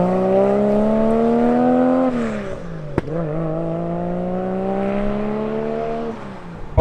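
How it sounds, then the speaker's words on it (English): A 910 bhp big-turbo Nissan R34 Skyline engine revs and pulls hard through the gears, a loud, steady harmonic drone rising in pitch, dropping at each shift near two and three seconds, then climbing again, close and alone. "Alright guys, going out for a drive in a Skyline."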